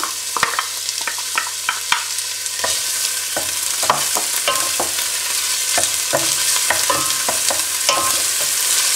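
Chopped onion sizzles in oil in a pot, a steady frying hiss broken by repeated clinks and scrapes of stirring, close and loud with no talk.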